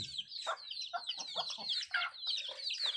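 Hens clucking and cackling on a farm, one of them laying an egg, with several overlapping calls in a steady busy chorus at close range.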